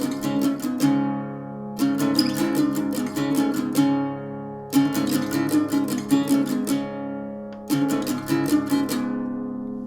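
Acoustic guitar picking the solo of a song in four bright, ringing bursts of quick plucked notes, each letting its chords sustain and decay before the next phrase, played close and alone with no talking.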